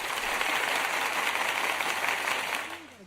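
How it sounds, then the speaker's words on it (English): Applause track played on a talk show panel, a steady wash of clapping and cheering crowd noise sustained for about three seconds before tapering off at the end. "You gotta get more on your timing with the applause track."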